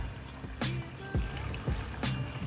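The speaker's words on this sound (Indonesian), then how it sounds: "pakai air biasa untuk ngebilasnya" Plain water trickles and splashes steadily, with a few louder sloshing pulses as an aftermarket KTM Duke/RC motorcycle air filter is rinsed layer by layer under a gentle flow.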